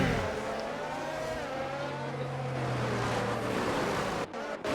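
Race cars in an F1 racing video game at the Austrian Grand Prix roar past with a steady engine drone and a sustained low tone. Two brief sharp bursts of noise mark the end, with no voices over them.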